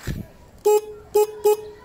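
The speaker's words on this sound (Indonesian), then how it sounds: "ya khasnya motor Honda lah klaksonnya culun" A small, thin Honda motorcycle horn honks three short times at close range, after a brief voice at the start.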